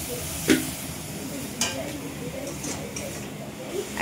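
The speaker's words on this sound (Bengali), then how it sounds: "একবার এই খুন্তি নাড়ে, একবার ও খুন্তি নাড়ে, তরকা" A spatula stirs tarka frying in a pan in a home kitchen, a soft steady sizzle with a few light metallic scrapes and clinks against the pan.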